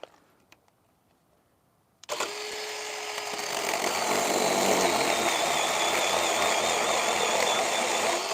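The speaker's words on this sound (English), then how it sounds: "what I'm doing now is cutting 8-foot sections that I'm going to screw on the opposite side" Power tool cutting 8-foot wood sections for a fence outdoors: after a couple of quiet seconds and a few clicks, a loud whining motor starts abruptly and runs continuously, with grinding through the wood.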